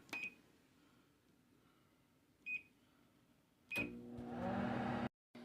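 A microwave oven heating butter in cups gives three short keypad beeps spaced a couple of seconds apart, then starts up with a steady humming whir that runs close and fairly quiet before cutting off abruptly.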